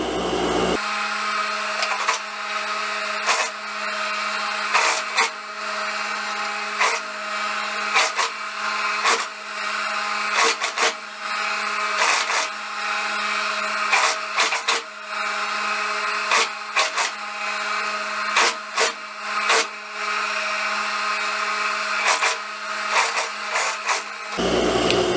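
A sewing machine runs continuously as it stitches a narrow rolled hem on a sleeve, giving a steady mechanical hum with a rapid needle clatter, close and alone for about twenty-five seconds.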